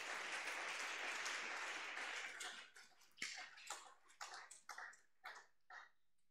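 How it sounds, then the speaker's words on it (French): A church congregation applauds, a dense burst of clapping that thins after a couple of seconds into scattered individual claps and fades out. "Acclamons pour le Seigneur Jésus."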